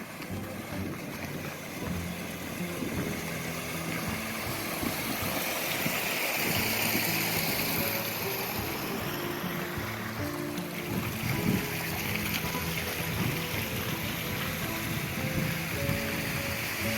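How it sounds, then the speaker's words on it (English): A creek at a trail crossing on the Vivian Creek route up Mt. San Gorgonio gives a steady, full rushing flow, close and continuous, with no voices. "We're coming up now to the creek crossing."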